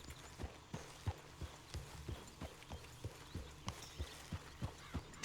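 Horse hooves clip-clop at a steady walking pace on a horse ridden in Red Dead Redemption 2, about a dozen crisp, evenly spaced hoofbeats, fairly close and clear, with no talking over them.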